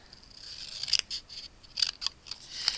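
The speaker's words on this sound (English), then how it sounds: "I'm going to take my scissors" Scissors slice through card stock in a handful of crisp snips, close and quiet, spaced irregularly with brief pauses between cuts.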